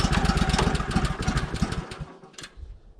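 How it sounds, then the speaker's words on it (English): Engine of a Woodland Mills HM130 Max Woodlander sawmill running on its first start in near-freezing weather, a steady close, loud pulsing mid-pitched putter that drops off and wavers near the end. "That is the very first pull I've ever put on that engine"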